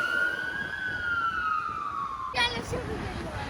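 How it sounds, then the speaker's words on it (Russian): A fire engine siren sweeps past on a city street in Durres's old town, a long rising-and-falling wail close by over traffic and street noise. "А там горит, едет пожарная"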